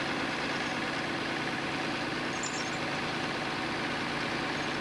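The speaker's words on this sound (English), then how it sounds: "While driving the machine forward slowly, force the outside of the chain around the outside of the tire." A skidder engine drives slowly forward during tire chain installation, a steady low diesel drone with constant rumble, moderately loud and unbroken, with no talk.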